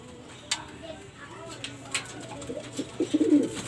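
Racing pigeons coo softly in a loft, low murmuring calls building toward the end with a few sharp clicks and taps scattered through, while a person talks quietly in the background.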